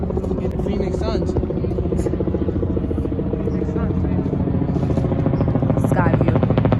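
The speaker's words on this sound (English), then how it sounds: "There's some helicopter races going on" A helicopter drones overhead above a city, its steady rotor buzz and clatter running continuously at moderate loudness, with people talking nearby over it.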